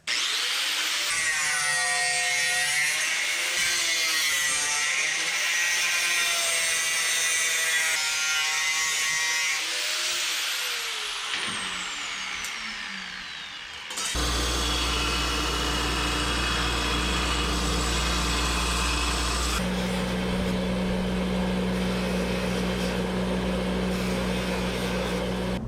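An angle grinder cuts into the body metal of a 1977 Datsun 620 pickup, the motor whining loudly with a wavering pitch before settling into a harsher, steady grinding roar that continues up close without pause.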